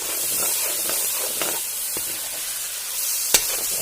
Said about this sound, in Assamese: পিঁয়াজখিনি ভাজিম এতিয়া